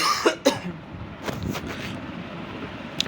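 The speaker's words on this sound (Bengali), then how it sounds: "আমার একটু ঠান্ডা লেগেছে আর কি, তাই একটু কাশি এসছে" A person with a cold coughs twice in quick succession, close and loud, followed by quieter background hum and faint noises.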